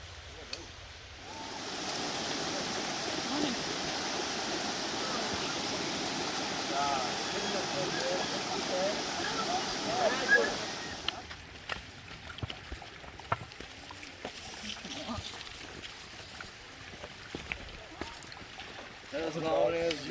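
Seneca Creek in the West Virginia backcountry rushes steadily nearby, a broad, even wash of flowing water that drops away after about ten seconds, leaving quieter outdoor sounds and occasional talk.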